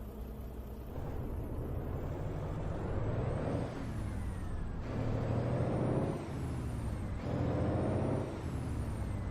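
Mack CHU 613 truck in American Truck Simulator, with steady engine and road rumble broken by several loud hissing air-brake releases at a regular pace, heard alone.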